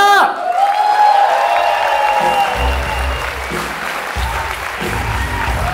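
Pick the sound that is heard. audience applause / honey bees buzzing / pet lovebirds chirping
audience applause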